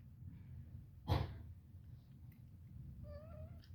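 A single short meow near the start, followed later by a few faint, high mewing cries close to the microphone over a quiet room hum.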